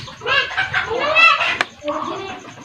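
A homemade bird call whistle of PVC or bamboo gives a series of warbling, chirping toots up close, like a bird's song, shifting in pitch and ending with a softer, lower call.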